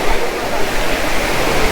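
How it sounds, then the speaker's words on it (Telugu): Water rushes at Papavinasanam in Tirumala, a loud, steady broadband roar of flowing water close by with no break. "ఇక్కడ నుంచి అయితే వాటర్ వేరే లెవెల్లో పోతుంది."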